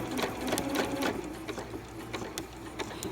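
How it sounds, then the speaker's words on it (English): A sewing machine stitches fabric at a quarter-inch seam allowance, its steady rapid mechanical whir running close and continuous, with faint needle clatter throughout. "I'm just gonna sew this at a 1/4 inch seam allowance"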